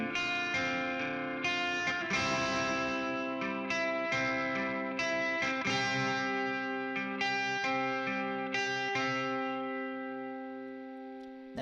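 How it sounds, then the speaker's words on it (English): Electric guitar played through a vintage drive pedal and spring reverb, strummed chords ringing with crunchy overdrive and a lingering reverb tail that fades toward the end, with no voices. "I'm using these two pedals, the vintage drive and then just a spring reverb"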